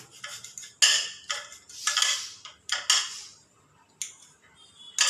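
A knife cutting lemons in half on a board, a series of sharp, crisp clicks and taps at an uneven rhythm, close and fairly quiet, with short pauses between cuts.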